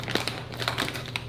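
A bag of chips is torn open by hand without scissors, giving close, continuous crinkling and crackling of the packaging in quick bursts.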